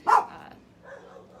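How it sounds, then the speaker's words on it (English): A single sharp dog bark outdoors, fairly close, followed by a softer muffled yelp or growl a moment later. "If you hear dogs, it's because we're outside and they're barking."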